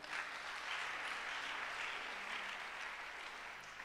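Church congregation at a worship service applauding for Jesus, a steady, dense wash of clapping filling the hall at an even level throughout, with no talking over it.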